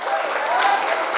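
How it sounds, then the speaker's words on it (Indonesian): An audience applauds the leaders at a smart-leadership event at Pesantren Darussalam in Rajapolah, Tasikmalaya, a dense, steady clapping that fills the short moment. "Tepuk tangan buat para leader hari ini"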